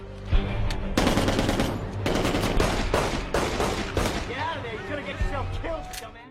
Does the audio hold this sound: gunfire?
yes